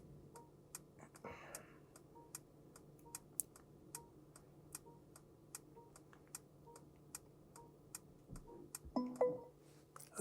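A Mercedes GLC 350's turn signal ticks in an even, quiet, regular rhythm inside the cabin while park assist steers, with a soft low hum beneath and a brief rustle near the end.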